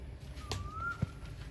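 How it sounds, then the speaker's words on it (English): A single pigeon- or dove-like bird gives a soft whistled coo, faint and somewhat distant, over low background hum with a small knock near the end. "can you hear that noise? That is one bird I despise."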